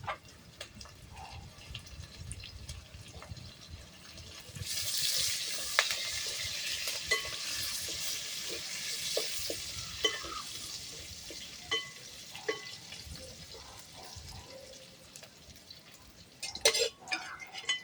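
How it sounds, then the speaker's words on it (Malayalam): Curry leaves dropped into hot oil in a pan for a coconut milk chicken curry, a sudden sizzle rising midway and continuing steadily with small crackles and pops, with faint stirring sounds close by. "വേപ്പില ഇടും."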